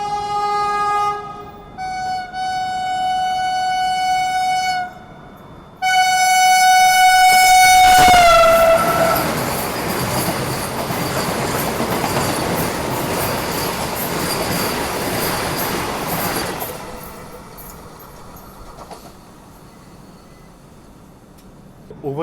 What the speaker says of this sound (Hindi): ओवरटेक बिल्कुल यहीं पे देखने को मिल गया और बिल्कुल पैरेलल में ट्रेन ने ओवरटेक किया